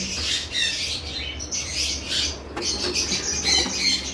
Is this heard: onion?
no